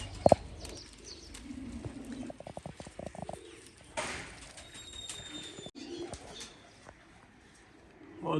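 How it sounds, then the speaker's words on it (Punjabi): Pigeons coo softly over a rooftop loft, low throaty calls under a busy outdoor background with a burst of rapid clicking taps and occasional sharp knocks, no speech heard. "ਹਜੇ ਹੈਗੇ 10 ਕਬੂਤਰ ਉੱਤੇ"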